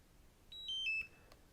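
A DJI Mini 4K drone remote control plays a short descending series of four or five faint electronic beeps during power-off in a quiet setting.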